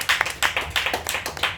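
Several hands clap together in steady, brisk rhythm at a church worship gathering, about a dozen close, sharp claps across a short burst.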